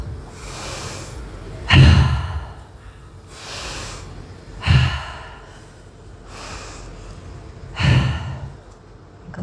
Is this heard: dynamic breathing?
yes